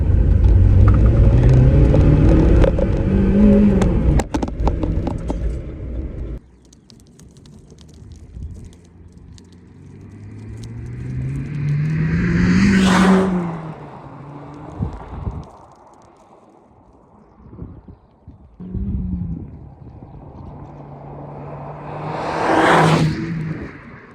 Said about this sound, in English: Like you hardly touch the throttle and it's already revving.